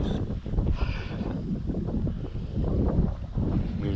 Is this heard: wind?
yes